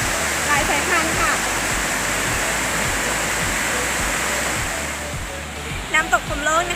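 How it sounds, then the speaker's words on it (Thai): Phrom Lok waterfall in Nakhon Si Thammarat, Thailand, fed by mountain water: a loud, steady rushing roar of falling water throughout, with someone speaking over it. "น้ำตกพรหมโลกนะคะเป็นทานน้ำที่มาจากภูเขาโดยตรง"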